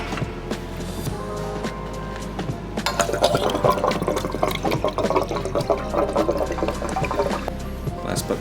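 Engine oil pours into a Lexus LS460 engine, a continuous close gurgling liquid stream that grows fuller partway through, with someone talking over it.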